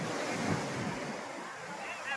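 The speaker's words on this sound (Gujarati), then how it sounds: "દરિયાનો મોજાનો નેચર અવાજ" Sea waves washing onto Madhavpur beach make a steady, broad rush of surf with some wind noise, holding at an even level throughout.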